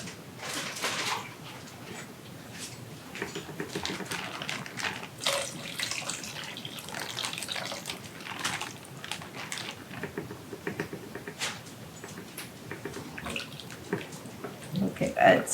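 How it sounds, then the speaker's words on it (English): Tomato juice is poured into a deconstructed stuffed green pepper dish, giving a soft liquid patter and splashing that runs on and off at a moderate distance, under occasional talk. "I think I am going to add a little bit of the tomato juice."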